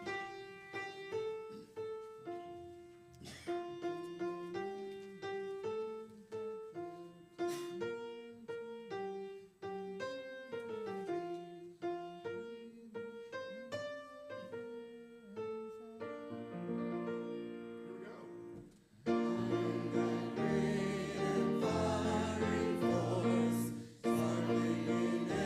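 A hymn tune plays once through on a church piano or organ at a Unitarian Universalist Sunday service, in steady sustained phrases that grow fuller and louder toward the end, with no talking.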